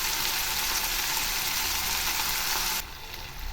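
Chopped tomatoes frying in oil in a pan for chicken drumstick kuzhambu, a loud, steady close-up sizzle that drops slightly in intensity near the end.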